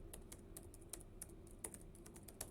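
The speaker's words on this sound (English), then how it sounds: "when I type kubectl API resources," Typing on a computer keyboard while entering a kubectl command: quiet, close keystrokes in an irregular patter of single taps, with no voices.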